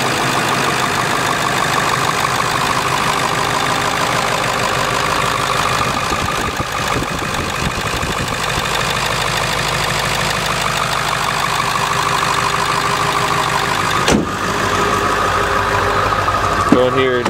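Pickup truck engine idling steadily at close range, a constant low rumble running unbroken throughout, with a brief clunk near the end.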